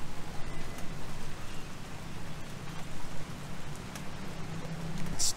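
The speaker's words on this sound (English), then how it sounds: "Gonna have to run for it because it's gonna pour down in a minute." Rain begins falling steadily outdoors in a city street, a continuous broadband patter of drops on surfaces with occasional louder splashes, fairly close and without voices.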